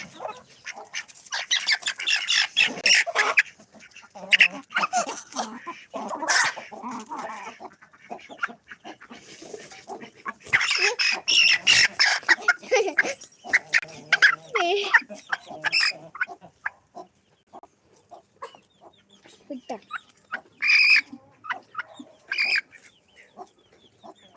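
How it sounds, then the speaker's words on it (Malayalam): A hen clucks repeatedly beside her chick in a farmyard, with bursts of busy, close clucking and high chick peeps that come in clusters and pause, ending in a few sparse calls. "ഇത് കോഴിയാണ് ഇത് കുഞ്ഞല്ലേ"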